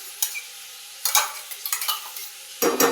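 Onion sizzles in oil in a pan for a mushroom curry while a spatula scrapes through it in short bursts, the frying hiss steady and close with a louder stir at the end.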